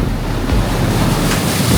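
Waves at Chinnamuttam fishing harbour rumble loud and close as a continuous surf roar, mixed with heavy wind buffeting the microphone, with no voices.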